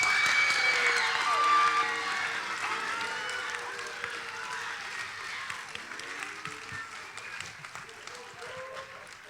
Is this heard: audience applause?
yes